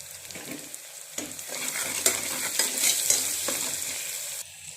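Avarekalu beans and potato with salt and turmeric are stirred and roasted in a pan, producing close sizzling with repeated scraping and tossing sounds in uneven bursts, no speech.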